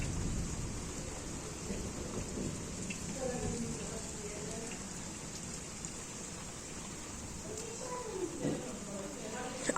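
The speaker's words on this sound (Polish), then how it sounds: "Najsilniejsza burza w sezonie." Thunderstorm over Kunów with steady rain hissing on surfaces and low rolling thunder rumbling through, fairly quiet overall, with faint voice-like sounds mixed in.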